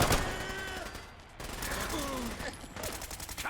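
Gunfire in the video game Fallout: London: a sustained fusillade of shots crackling through the clip, mixed with other game sounds and bursts of voice.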